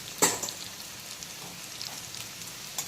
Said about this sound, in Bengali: তো আলুগুলোকে এখন খুব ভালো করে ভেজে নেব